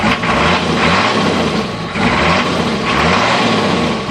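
A Toyota Land Cruiser HJ60 diesel engine with worn piston rings, in need of a rebuild, revs hard and loud up close in three sustained pushes with short dips between, and no talking.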